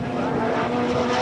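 Turbocharged 2-litre touring cars racing in the 1990 British Touring Car Championship, a dense, loud engine roar that holds steady through a brief moment of trackside noise.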